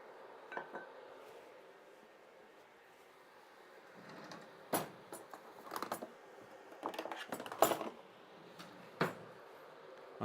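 Faint, scattered clinks of a spoon and cutlery against pots and dishes in a home kitchen while cranberry sauce is made, several light metallic taps spread unevenly over a quiet background.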